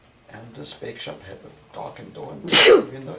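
A single sharp sneeze bursts out near the end, loud and close, after someone speaking during an interview.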